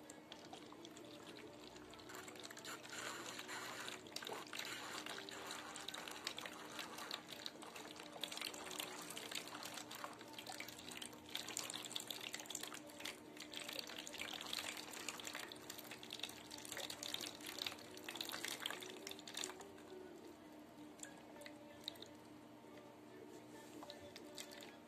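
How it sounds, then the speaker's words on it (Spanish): Water pours and trickles steadily into a bottle, a continuous splashing flow that stays fairly quiet and close throughout. "comenzaremos a ver que esta agua baja a la primera botella"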